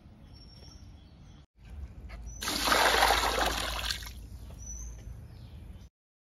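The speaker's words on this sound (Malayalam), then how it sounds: "അപ്പോൾ നമ്മൾ വെള്ളം ഇവിടെ മണ്ണിൽ ഒഴിച്ചു കൊടുത്തിട്ടുണ്ട്" Water from dissolved diaper gel is poured onto garden soil, a splashing gush that swells for about two seconds and then tapers off, with faint birds chirping in the background.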